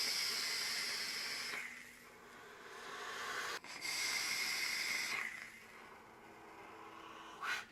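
Vaping on a Vandy Vape Kensei RTA bubble tank at 115 watts with a 0.12-ohm build, close and quiet: two long airy draws through the airflow with a crackling coil hiss, a brief pause between them, then a short final puff.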